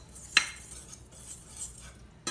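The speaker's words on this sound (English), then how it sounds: "And then I'm going to stir in my dry ingredients." A utensil stirs dry ingredients into carrot cake batter in a bowl, giving soft close scraping with a sharp clink against the bowl near the start and another at the end, with no talking.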